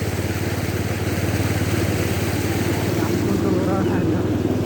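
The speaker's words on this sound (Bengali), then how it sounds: "মোটর সাইকেল মনে হচ্ছে নিয়ে চলে যাবে পানির মধ্যে দিয়ে" A motorcycle engine idles and runs steadily through knee-deep, fast-flowing floodwater on a road in Sylhet, a constant low drone with rushing water close by and talk over it.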